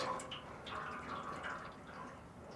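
Motor oil from a 1955 Ford oil filter drips and trickles into a large low-profile metal drain pan, a faint, steady liquid patter in a quiet garage.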